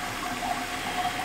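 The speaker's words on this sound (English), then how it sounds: "So you guys can see the water going down there." Water draining down a plugged bathtub drain being snaked, a steady gurgling, rushing flow heard close up without any talk.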